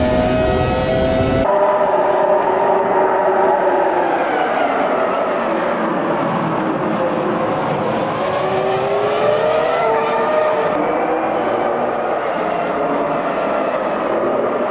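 A Formula One car engine roars in a racing video game set at the 2002 US Grand Prix, loud and continuous, its pitch rising and falling through gear changes and corners, with other cars' engines blending in.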